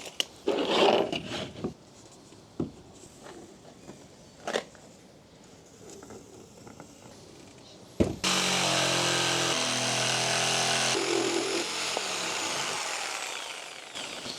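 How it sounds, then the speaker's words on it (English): A jigsaw cuts into a small bucket in a garage. A few clunks and knocks come first, then the saw starts with a loud, close, continuous buzzing rasp that runs for several seconds. "My God, that is the scariest jigsaw I've ever used in my life."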